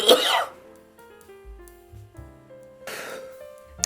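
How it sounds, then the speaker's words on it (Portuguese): A guest on a Brazilian drag competition show coughs, one harsh burst up front and a second cough a few seconds later. Softer throat sounds and faint tones fill the gap between them. "A pessoa vem no programa da pessoa, a pessoa tosse."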